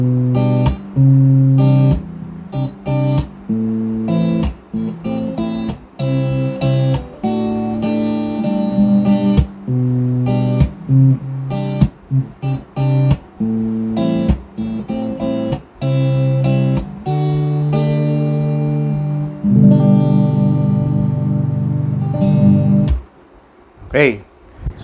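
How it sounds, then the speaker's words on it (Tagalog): An electric guitar played through its piezo acoustic pickup setting, with the selector switch on the second position, gives bright plucked notes and chords in a continuous passage of varied rhythm, close and fairly loud, with brief gaps near the end. "So, yun yung tunog ng piezo acoustic."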